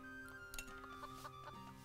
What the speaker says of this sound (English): It was clucking, I guess?